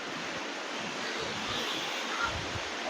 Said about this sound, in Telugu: ఇక్కడ నుంచి పైనుంచి వాటర్ పడుతుంటే చాలా బాగుంది